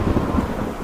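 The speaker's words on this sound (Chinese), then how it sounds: "雨下太大了" Heavy rain pours on open grassland with a deep rumble of thunder rolling underneath, loud and dense across a brief moment with no voices.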